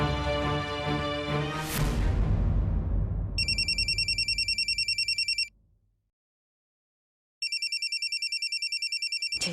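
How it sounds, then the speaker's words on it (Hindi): A bright electronic phone ringtone, first as a swelling melodic tone, then as rapid repeated trilling bursts that stop, fall silent, and start again, loud and close with no voices. "जैसा विष्णु पांडे वैसा विष्णु पांडे का फोन टिनटिनाते रहते हमेशा।"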